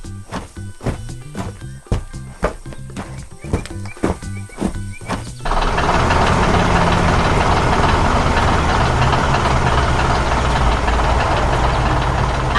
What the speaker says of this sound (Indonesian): Terdengar suara birdring dan suara mesin bekerja